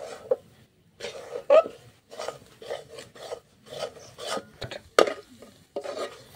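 Ground semolina is stirred into a sweet pumpkin laddu mixture, giving a series of close, rhythmic scraping and rubbing strokes with short gaps between them.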